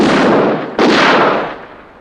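A single loud gunshot cracks out after a sustained booming blast, its echo decaying slowly over about a second with no talking.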